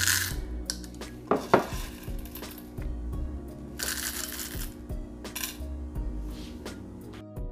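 Medium roast coffee beans being measured out, rattling and clicking against a hard container in scattered bursts, with several louder pours and clatters, close and distinct with no voice.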